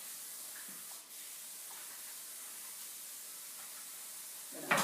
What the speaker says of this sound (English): we're gonna rinse it a little bit, and then we're gonna drain it